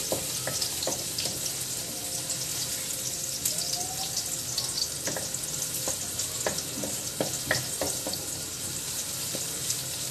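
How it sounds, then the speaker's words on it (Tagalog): Pork fat sautéing in a pan as the first step of dinuguan with banana blossom, a steady close sizzle with scattered stirring clicks and scrapes, no talking. "Ayan, so unahin natin igisa ang taba."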